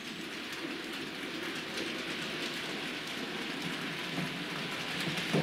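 A Bachmann Lord Nelson class model steam locomotive in SR livery, with split chassis, runs steadily along track with a continuous, close, even rushing-rattling hum and no pauses or talk.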